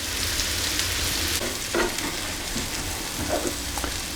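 Onions sizzling steadily in a hot frying pan as they caramelise, with occasional soft scraping and stirring knocks from being turned, close and continuous.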